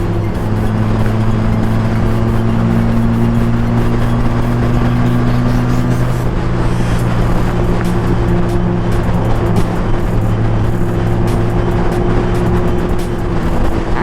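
Can-Am Spyder three-wheel motorcycles on a group ride give a steady, loud exhaust drone with a constant low engine hum, close and continuous under rushing wind.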